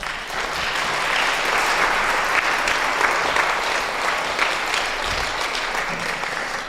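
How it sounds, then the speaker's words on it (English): An audience at a junior high and high school spring concert applauds a top-rated student performer, a steady wash of many clapping hands that swells in and holds for several seconds, fairly loud and close. "So if we can give her a round of applause."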